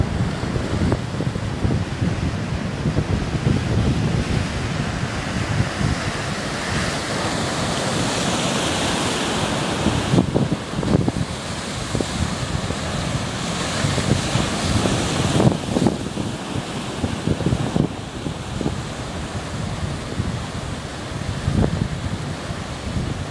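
Wind and surf at a port's north jetty the day after a cyclone, waves washing and breaking continuously under gusting wind buffeting the microphone, no voices.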